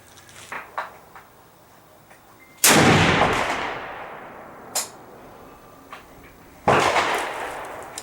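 A 7mm PRC rifle fitted with an Outlier barrel fires two loud, sharp shots several seconds apart, each with a long echoing decay, while fainter distant bangs pop in between.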